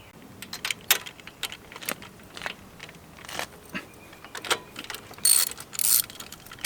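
A hand ratchet clicks in irregular bursts while spark plugs are removed from a Honda CB400F motorcycle, with close metallic ticking and a few jangling tool sounds, no talk.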